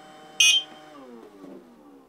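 A Gotway electric unicycle gives a short, bright electronic beep as it is switched off, a single loud tone of about a quarter second, followed by a quieter lingering hum.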